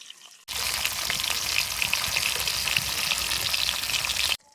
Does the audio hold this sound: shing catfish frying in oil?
yes